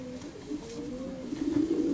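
A grey scaly pigeon coos softly and close by in a low, wavering, throaty call that rises in strength near the end, alone with no talk.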